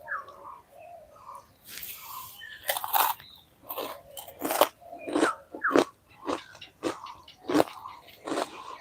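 Someone eats puffed rice (muri) up close, with repeated crisp crunching bites in an uneven rhythm and soft chewing between them.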